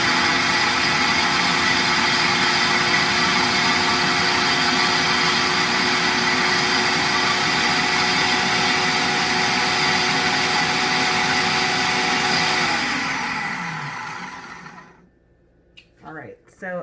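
A food processor runs steadily with a loud motor whine for about thirteen seconds while making raw rainbow lettuce wraps with spicy mango dressing and jicama, then spins down and stops, followed by faint clicks.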